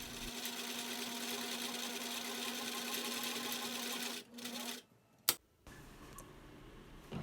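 A sewing machine runs steadily for about four seconds while stitching a cotton pipe-cleaner face mask with right sides together, then stops, followed by a sharp click and quieter handling.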